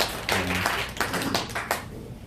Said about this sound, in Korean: 우리 예수님 생신 축하합니다 하고 박수 한번 쳐드립니다.